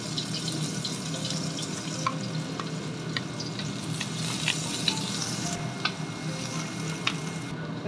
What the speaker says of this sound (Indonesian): lalu tumis bawang putih, bawang merah sampai harum